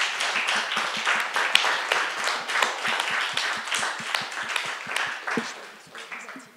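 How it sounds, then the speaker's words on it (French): A live audience gives a round of applause for expert guest speakers, with many close, crisp hand claps in a brisk, uneven patter that holds steady before tapering off. "on peut applaudir nos intervenantes de très haut niveau"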